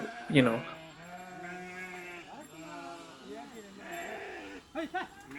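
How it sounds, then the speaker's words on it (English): Hundreds of goats of a grazing family bleat while being herded home between Indian villages, with a loud close call near the start and scattered cries following, heard under continuous talk. "I witnessed a grazing family returning home with hundreds of goats"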